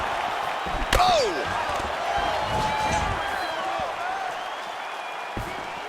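Crowd noise from a UFC 4 video game fight, a steady arena roar with a sharp impact spike early on, heard under continuous commentary from someone talking over it.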